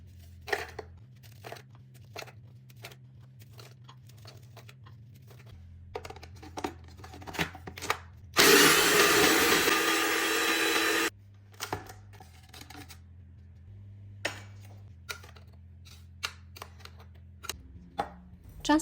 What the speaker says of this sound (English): Here I am using digestive biscuits, but you can use any arrowroot biscuits and grind them into a powder.